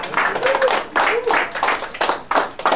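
A rap battle crowd claps and cheers in loud, repeated bursts of applause and shouting, rising and falling in waves, with a few distinct yells cutting through.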